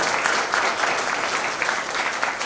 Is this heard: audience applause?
yes